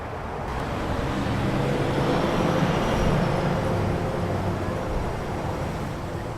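Austin city traffic with passing cars and buses, a continuous broad roadway rumble and hiss at moderate volume, swelling slightly mid-way as a vehicle goes by, with no voices over it.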